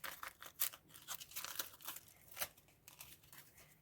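A paper stationery surprise packet being handled and opened up close, with crisp crinkling and tearing of paper in quick irregular bursts, sharp rustles rising and falling against a quiet background.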